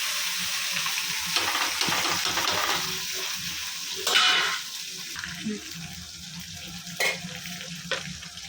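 Green chillies and cumin frying in hot oil for lemon rice, a steady close sizzle with stirring clatters and a few sharp spatula knocks.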